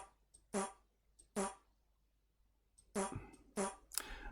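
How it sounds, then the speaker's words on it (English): Short synthetic fart sound effects fire from a JavaScript fart button, two bursts, a pause, then three more in quick succession, loud against a quiet background. "it doesn't do anything but farts"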